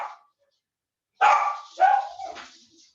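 A pet dog barks at home during an online calculus class: one short yelp, then a silence, then a loud close burst of two or three barks that trails off.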